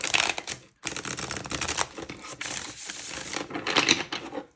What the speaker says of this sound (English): I'm going to shuffle once more.